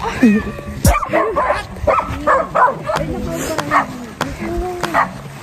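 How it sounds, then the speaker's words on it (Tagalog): Several dogs bark and yip in short bursts nearby, with whining in between, while people talk over them outdoors. "Marami palang aso dito"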